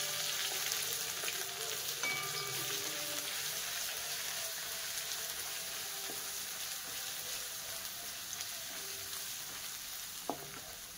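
Mustard seeds, cumin, ginger-garlic paste and bay leaves fry in hot oil for masala rice, a dense, continuous sizzle with faint crackles throughout.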